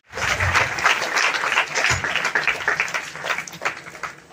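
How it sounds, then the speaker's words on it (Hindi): An audience at an award ceremony honouring students who passed 12th grade gives a sustained burst of applause, dense clapping that swells quickly and holds steady for about four seconds. "एक बार आप अपने पेरेंट्स, अपने पेशेंट्स के लिए एक बार जोरदार तालियां बजा दें।"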